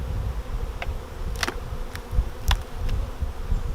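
Honey bees buzzing around full hive supers being lifted off during a honey harvest outdoors; a steady low hum of many bees with a few louder individual bees passing close.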